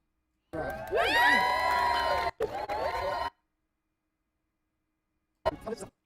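A wedding crowd-cheering sound effect swells with shouts and whoops for about three seconds, then drops out abruptly to silence before a short burst of cheering returns at the end.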